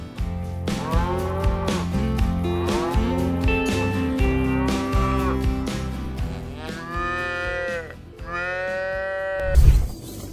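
Wagyu cattle lowing repeatedly, with long, loud, drawn-out moos from several animals that overlap and follow one another, ending in a deep rumbling thump.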